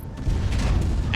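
A missile explosion in Project Wingman, a heavy, loud boom that rumbles steadily through the brief stretch, with no talk.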